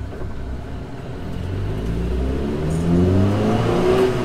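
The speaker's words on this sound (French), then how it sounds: "Compressé, et le turbo on l'entend" A turbocharged Dallara Stradale accelerates, its engine note rising steadily in pitch and volume from a low rumble to a louder, strained whine, heard close without talking.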